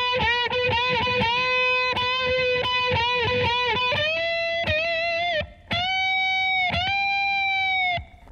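A distorted electric guitar plays a lead line with sustained notes and full and one-and-a-half-step bends sliding up, loud and close, pausing briefly before continuing.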